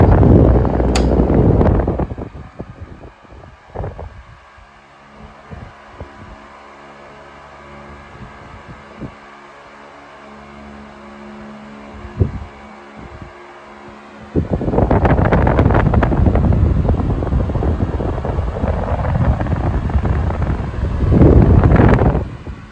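1970s Sanyo 16-inch oscillating fan at full blast, a steady airy whoosh with low motor hum and buffeting, louder at the start and again from midway as the head swings back toward the listener.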